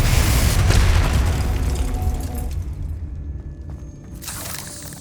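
Spell explosions from the video game Hogwarts Legacy land as a loud booming burst that decays into a rumbling tail, with a second, quieter burst near the end.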